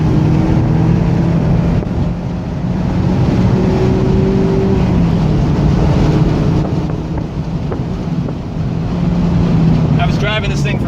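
A stock ND-generation Mazda MX-5 Miata driving over a bump and through a turn, with a steady low engine drone under heavy wind and road rush that stays fairly loud and even throughout.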